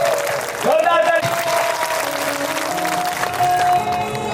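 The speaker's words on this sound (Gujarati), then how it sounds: "જોરદાર તાળી" Enthusiastic audience clapping at a seven-day Bhagwat katha gathering, a loud burst of applause mixed with voices and a tonal hum from the sound system.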